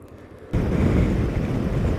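Wind roars loudly over a motorcycle helmet with an MRA Xcreen visor at speed. It bursts in abruptly after a quiet half-second and then holds a steady, heavy rush.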